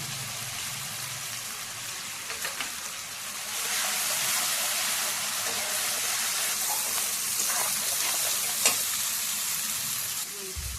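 Spice paste of ground chilli, cumin, black pepper and turmeric sizzles steadily in hot oil in a pan. The hissing frying noise grows louder partway through and then stays constant, with a faint clink near the end.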